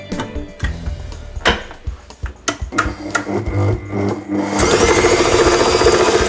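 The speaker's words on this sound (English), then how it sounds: "You can just beat this with a regular hand mixer." Electric hand mixer beating a creamy mixture with caster sugar in a bowl, starting with a few knocks and short bursts, then running as a steady, loud continuous whir for the last couple of seconds, with no talking.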